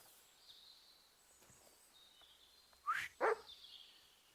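A dog in Kingdom Come: Deliverance II gives two quick barks close by, with faint ambient game sound around them.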